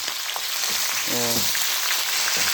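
Pieces of pork fat frying in a pan, giving a steady close sizzle and crackle that stays alone and even throughout, with a faint brief tonal clink near the middle.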